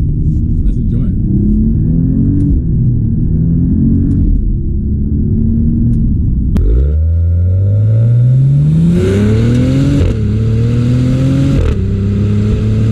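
A 2024 Maserati Ghibli Modena Ultima Q4 in manual mode pulls hard, its engine note climbing through the gears with a clear shift break midway before rising again, loud and close from inside the cabin.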